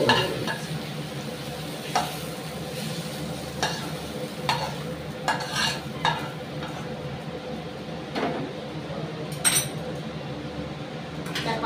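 Potato and onion stalks fry in a pan, a soft steady sizzle broken by sharp scrapes and clinks of a metal spatula stirring against the pan.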